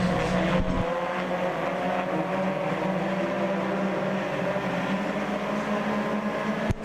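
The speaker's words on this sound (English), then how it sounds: "Four cars racing for the lead" Race cars roar around Port Royal Speedway, several engines droning together in a steady, loud, sustained rumble as they run in a pack.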